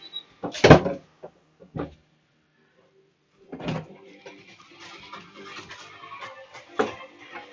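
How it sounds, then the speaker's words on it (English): Bathroom door being shut and locked: a sharp knock near the start, a few lighter clicks and rattles, then a longer burst of handling noise and a final latch click, all close up. "run into the bathroom and shut that door and lock it"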